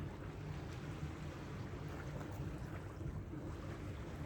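Steady, broadband sea wash and surf at the shore, with wind noise on the microphone, fairly faint and continuous with no talk.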